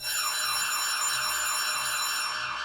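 A loud, continuous wailing siren with a rising and falling electronic tone, sustained without pause and heard alone.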